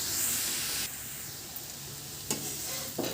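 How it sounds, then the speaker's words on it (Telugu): Grated carrot frying in ghee in a pan for carrot halwa, a steady close sizzle with occasional stirring scrapes and no talking. "నేతిలో వేయించాలండి."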